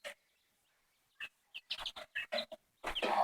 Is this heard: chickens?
yes